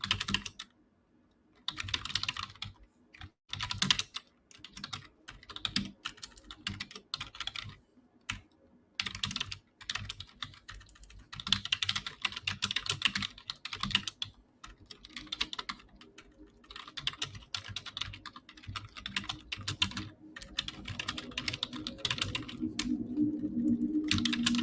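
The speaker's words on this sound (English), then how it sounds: "I'm gonna type an answer out to that question while I wait to see any other ones come in." Someone types on a computer keyboard in irregular bursts of soft, close clicks with brief pauses between them. The typing runs steadily for about twenty-five seconds with no talking.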